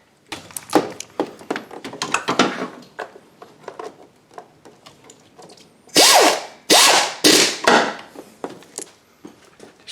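Bolts are started by hand into the bottom timing belt cover of a 2004 Toyota Sienna 3.3L, making close metallic clicks, taps and clunks in irregular bursts, louder toward the end, with no speech.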